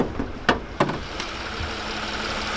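A six-cylinder Genesis G330 engine idles smoothly and quietly at close range, after two sharp clicks near the start.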